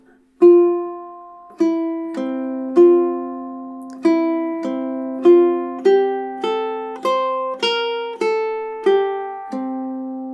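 A ukulele picks all four measures of Fernando Sor's classical study Opus 60 no. 1, about a dozen clear plucked notes ringing and decaying in a steady, unhurried rhythm, played alone and close.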